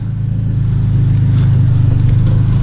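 A third-generation Toyota Tacoma in normal two-wheel drive strains up an incline, its engine giving a steady low rumbling drone with faint pulsing, close and without talk.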